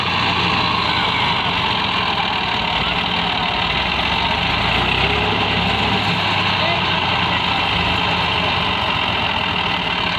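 A heavy tractor engine, stuck, drones loudly and steadily, a constant low rumble with no letup, voices faintly mixed into the noise.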